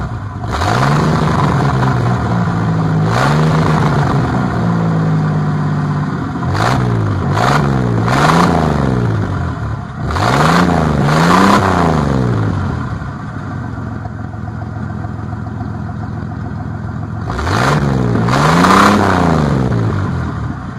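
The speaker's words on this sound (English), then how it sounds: "This is pretty much a muffler delete, right, from the cap. So we're gonna see how that sounds." A 1980 Firebird V6 with its muffler disconnected at the cap revs repeatedly, loud raspy rises and falls over a rough idle, close by with no talking.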